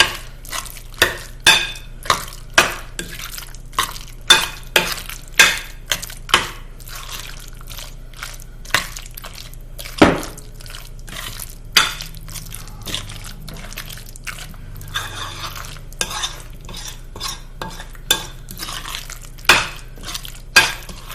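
A spoon mixing potato salad in a bowl, irregular scraping clinks and soft knocks at an uneven pace, close and fairly loud with no talking.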